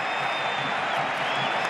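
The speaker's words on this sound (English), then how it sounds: "the crowd getting behind their team on this attack" Football stadium crowd at Sevilla vs Barcelona gives a steady, dense roar of cheering and applause that stays unbroken and moderately loud throughout.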